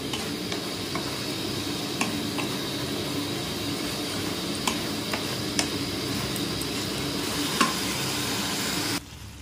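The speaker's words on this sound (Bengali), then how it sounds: "মশলাটা ভালো করে ভেজে নিয়ে তারপরে চিকেনটা যেটা ম্যারিনেট করা আছে ওটা এর উপরে দেবো।" Spice masala frying in hot oil for a homemade chicken curry, a steady close sizzle with scattered ticks and clinks of stirring throughout, cutting off abruptly near the end.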